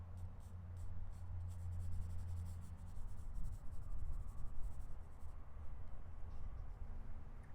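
A pencil sketches on paper outdoors at Catherine Creek, scratching and stroking steadily up close, with faint insects chirping in the background.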